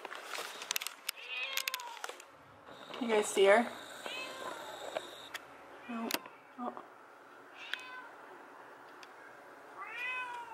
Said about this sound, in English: I can hear the cat meowing.